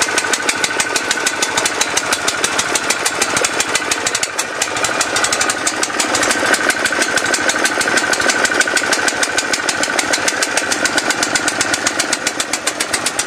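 A big petrol-engined pressure washer running after a cold start, its engine chugging in a fast, even stream of loud firing pulses with no talk over it.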